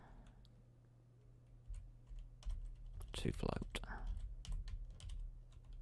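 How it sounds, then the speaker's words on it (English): Typing on a stiff computer keyboard, a run of quick clustered key clicks that grows busier in the middle, with faint talk in the background and a steady low hum. "Nearly getting used to this keyboard now."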